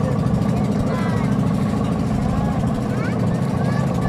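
A steady low engine drone runs throughout, a boat motor chugging along close by on the way to Little Boracay, Esperanza, Masbate, with wind and water noise and faint voices mixed in.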